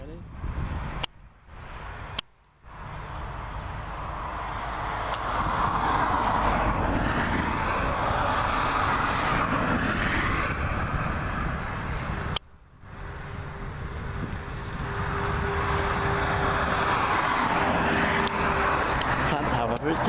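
A Norwegian airliner at Gatwick Airport gives a broad, sustained jet rumble that swells and holds loud for many seconds, heard at a distance from the gate while people talk.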